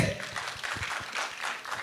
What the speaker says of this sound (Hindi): चलिए फिर से एक और बार जोरदार तालियां हो जाए फॉर मान्युआ एवरीबॉडी।